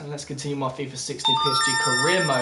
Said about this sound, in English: And that's my phone going off.